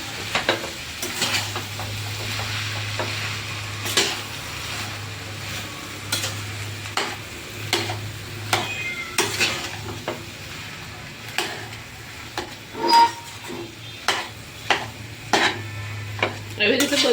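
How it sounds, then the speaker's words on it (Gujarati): Potato samosa filling being stirred and mixed in a pan: repeated spoon scrapes and clinks against the pan at an uneven rhythm over a faint sizzle and low hum. "એવી રીતે બધું મિક્સ કરી દેવાનું."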